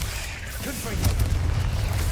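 Confringo spell blast in Hogwarts Legacy: a deep rumbling boom swells and lingers low and heavy through the short moment, with a voice present under the blast.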